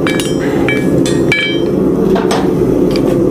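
A hammer strikes a horseshoe while a nail hole is punched into it, giving several sharp metallic clinks and rings close by over a steady, loud background hum.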